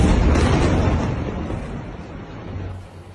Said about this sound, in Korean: 어둠이 짙은 가자 지구에 큰 폭발이 일어납니다